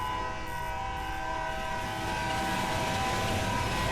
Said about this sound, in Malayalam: ട്രെയിൻ വിസിലടിക്കുന്നുണ്ട്, കേക്കാവോ